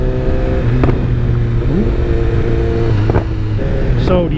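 A BMW S1000XR motorcycle fitted with an Akrapovic exhaust runs close by, its engine note rising and falling with a few sharp pops and crackles scattered through the idle rumble.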